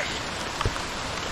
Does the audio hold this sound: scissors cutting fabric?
no